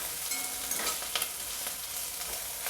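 Garlic paste frying in a small amount of oil for a tempering, a steady close sizzle with faint stirring.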